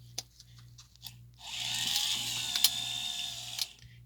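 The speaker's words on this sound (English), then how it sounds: "the unit rises the 10 to 12 inch limited extension" The power antenna motor of a 1976 Cadillac Eldorado extends with a close, whirring mechanical grind lasting about two seconds, bracketed by a few sharp clicks over a steady low electrical hum.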